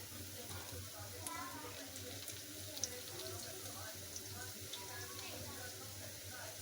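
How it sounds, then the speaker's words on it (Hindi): A bread and cheese roll fries in a pan with a soft, steady sizzle and occasional faint ticks and pops, quiet and largely under a person speaking. "अब दूसरी साइड को भी हम अच्छे से कर लेते हैं फ्राई"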